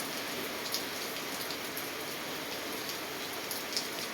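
Steady rain falls in a dense, even hiss, with occasional louder drops pattering on a nearby surface.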